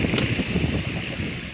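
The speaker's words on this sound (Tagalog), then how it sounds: "Lakas ng hangin ngayon" Strong wind buffets a small fishing boat at sea, a constant loud rushing roar against the microphone with no clear voices.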